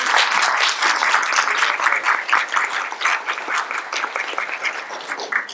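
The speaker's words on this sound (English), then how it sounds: "Can we give a round of applause without their efforts?" An audience applauds steadily at a spring garden-club event, a dense, sustained round of clapping from many hands that carries on alone for several seconds before slowly thinning.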